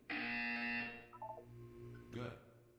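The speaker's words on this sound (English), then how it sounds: "You will hear a buzzer." Loud, harsh electronic buzzer in the Portal 2 video game, one sustained tone of just under a second, close and prominent, followed by quieter tonal game sounds.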